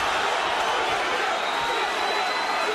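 A boxing arena crowd at a Roy Jones versus Anthony Hanshaw bout roars and cheers loudly, a dense wash of noise sustained throughout with no distinct voices.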